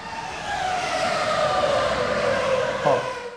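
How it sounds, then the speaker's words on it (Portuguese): Race car engines roar past at speed, a sustained loud whine that holds steady and then drops sharply in pitch near the end as the car goes by, with no talking. "Ou nos sons dos motores de carros de corrida."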